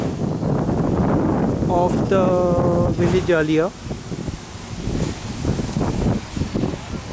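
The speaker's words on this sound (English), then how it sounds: "It's a very windy day here." Gusty wind in Taleigao, Goa, near a church buffets the microphone with a continuous roaring rumble while a person speaks briefly underneath.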